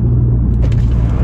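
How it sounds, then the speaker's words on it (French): Audi S3 fitted with a new exhaust line, heard as a loud, close, low engine rumble from inside the moving car for a brief moment. "je vais vous faire écouter la nouvelle ligne finie avec tout de bouché"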